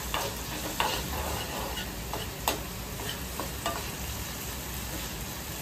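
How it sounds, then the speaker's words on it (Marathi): Ground spice paste is stirred in a hot cooking pan, a soft continuous scraping with faint sizzling and a few sharp clicks of the spoon against the metal, steady and close with no voices. "मिक्स करतो वाटण"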